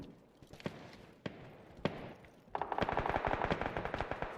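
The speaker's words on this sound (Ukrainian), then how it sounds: "Чи ще ззаді ще стріляють?" Gunfire in the online shooter PUBG: a few isolated distant shots at first, then a rapid burst of automatic fire that rattles on steadily until the end.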